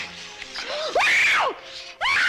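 A woman in a western TV drama screams in loud, rising and falling bursts, two long wailing cries close up with a short gasp before them.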